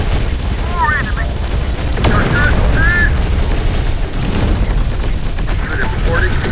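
Rocket fire and a booming explosion in the Terminator: Dark Fate - Defiance video game, a sharp blast amid steady loud battle noise, with game voices calling out over it.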